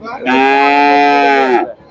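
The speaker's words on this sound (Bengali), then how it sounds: "এই যে এখানে চমৎকার একটা গাভী দেখতেছি" A single loud, close cow moo at the Chandaikona cattle market in Sirajganj, Bangladesh, drawn out for over a second with a rich tonal bellow, then fading quickly.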